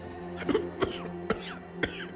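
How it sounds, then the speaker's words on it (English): A man coughs four times in a harsh, throaty rhythm, roughly half a second apart, close and fairly loud over a low ambient hum, in the video game Tainted Grail: The Fall of Avalon. "You please not cough on me, sir."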